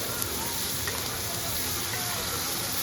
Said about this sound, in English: We'll actually start spooning the fattiness over top of the steak to baste it.